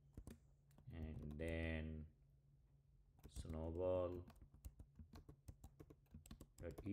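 Keys tapping on a computer keyboard as a terminal command is typed, light and rapid clicks under and between a man's speech, quiet and close.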